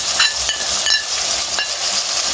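Red chilli powder goes into a hot pan of turnip and pea sabzi, a steady broadband sizzle with a few light scrapes of a spoon stirring, close and fairly loud, no talking.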